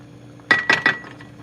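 Metal spoon stirring okra soup in a cooking pot: three quick, bright clinks close together, clear against a quiet background with no talking.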